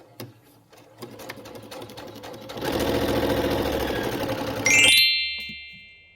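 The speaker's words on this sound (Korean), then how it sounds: "만약 미싱의 속도가 늦는 것 같다면 속도를 올려주시고 절대로 밀지 마세요" A sewing machine stitching fabric runs at a steady fast clatter, rising in intensity midway, then a bright metallic ding rings out as it stops.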